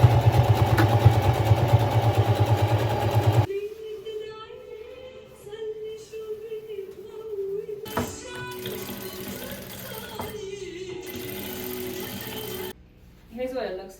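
A sewing machine runs a straight stitch through green fabric scraps, its motor buzzing steadily and loud for a few seconds at the start before giving way to quieter mechanical whirring and clatter.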